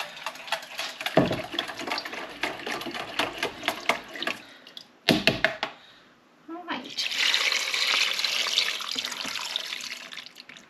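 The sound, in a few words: stock being poured into a pot with gammon and split peas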